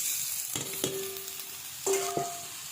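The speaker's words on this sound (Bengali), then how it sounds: "ঝিঙেটা আমি দিয়ে দিচ্ছি" Ridge gourd and potatoes fry in a pan over a wood-fired clay stove, a steady soft sizzle with a few sharp bursts as pieces are added and stirred.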